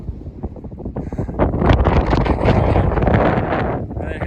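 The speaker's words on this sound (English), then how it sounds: "It's windy." Strong gusting wind buffets the microphone with a loud, continuous low roar that swells and stays heavy throughout.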